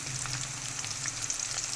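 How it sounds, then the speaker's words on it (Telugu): Squeezed bitter gourd pieces frying in a pan give off a faint, steady sizzle for a brief moment, with no voices. "బాగా ఫ్రై చేసుకోవాలి."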